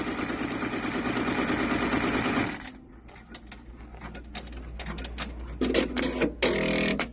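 A Baby Lock Capella embroidery machine stitches over 3D puff foam, a fast rattling needle drive that stops, leaving a low hum and scattered clicks before short bursts of stitching resume.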